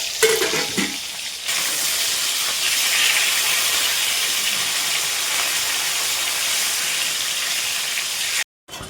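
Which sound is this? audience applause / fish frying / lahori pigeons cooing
fish frying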